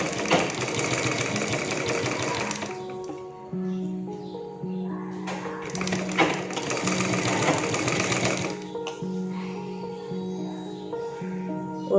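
A sewing machine stitches the sleeve seam of a readymade churidar: two close, loud bursts of rapid mechanical chatter separated by a quieter stretch of low motor hum, with no talking.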